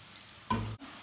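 Banana chips frying in hot oil in a wok as salt water is poured in: a sudden loud sizzling hiss bursts out for about a quarter second, then cuts off abruptly over a low, steady background.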